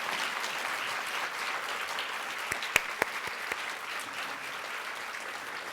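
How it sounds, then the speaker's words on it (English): Sustained applause fills a symposium hall after a keynote panel on global health for International Women's Day, an even wash of many clapping hands with a few sharper individual claps standing out, no speech on top. "Please join me in giving a round of applause to our panel"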